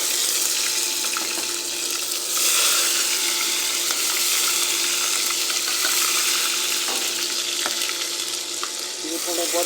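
Ginger and garlic sizzle steadily in a hot pan while cooking for chicken curry, a continuous close frying hiss with faint stirring and clinks and no talking.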